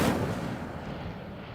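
An Incendio fire spell bursts in Hogwarts Legacy, a loud booming blast at the start that decays into a rumbling, crackling roar over about a second and a half.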